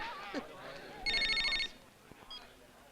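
A telephone rings for an incoming call in a home, one short electronic trill of about half a second that sits clearly above low room noise, with a voice speaking just before it.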